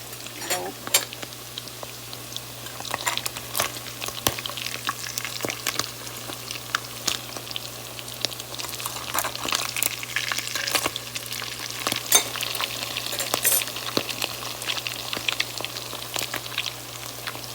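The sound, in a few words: salmon patties frying in a pan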